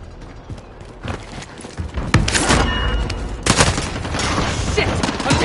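Incoming gunfire in a shooter game: clusters of loud, cracking shots and rattling bursts build toward the middle and end, with voices faintly mixed in.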